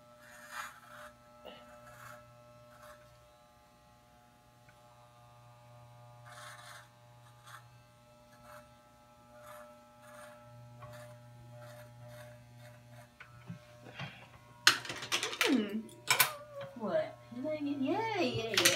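Electric hair clippers shaving a head give a continuous low buzzing hum, with louder scraping and rasping bursts toward the end as the blades pass over the scalp.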